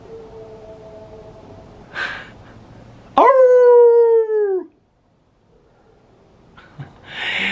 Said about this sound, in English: that dog howling somewhere.